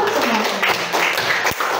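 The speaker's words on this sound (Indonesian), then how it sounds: "Tepuk tangan semua." A classroom group claps together during a school lesson, a short burst of hand claps mixed with voices.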